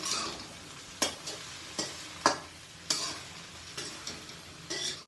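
Okra curry cooking uncovered in a pan, a steady sizzle of frying with a spoon scraping and stirring at intervals of about a second, close and fairly quiet.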